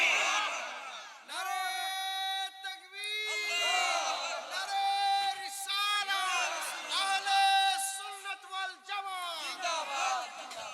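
A large crowd at an Islamic religious sermon shouts the takbir, Allahu Akbar, in loud sustained chanted waves that rise and fall several times, voiced together in unison and echoing strongly.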